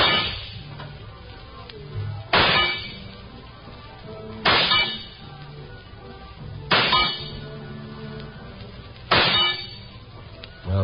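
Rifle shots at a shooting gallery in a 1950 radio drama: five sharp metallic cracks spaced about two seconds apart, each ringing briefly before the next, loud and close with no talk between them.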